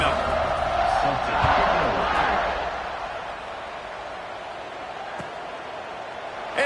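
A college football stadium crowd at Notre Dame versus Ole Miss roars broadly at kickoff and then eases into a quieter murmur, with a commentator talking over it.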